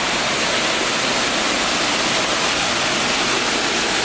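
Orlias waterfalls in Greece roar with a steady, dense rush of falling water, loud and continuous throughout with no voices or other sounds breaking through.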